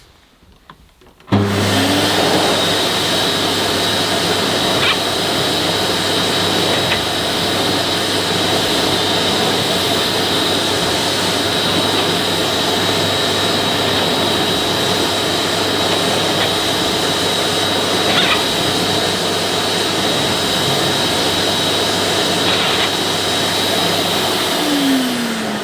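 A Zelmer Neptune aqua filter water filtration vacuum cleaner starts up with a sharp onset and then roars steadily with a loud, constant whine and hum, continuing alone at close range.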